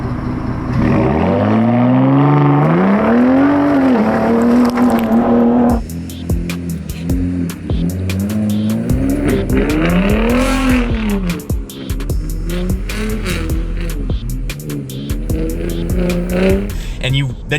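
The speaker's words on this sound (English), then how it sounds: "when you make a twin turbo V6 sound good, that's what it's going to sound like" A Ford F-150 Raptor's twin-turbo V6 revs hard while ripping donuts in two-wheel drive in the woods: loud, rising and falling engine howls with repeated surges, backed by rapid crackling and tire noise, with voices talking over it.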